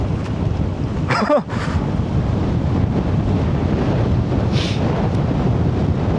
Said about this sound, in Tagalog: Hinahatak tayo ng hangin, no?